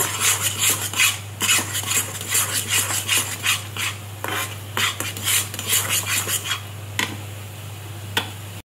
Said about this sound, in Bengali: এইভাবে নাড়তে নাড়তে জিনিসটা বেশ কড়াই ছেড়ে আসবে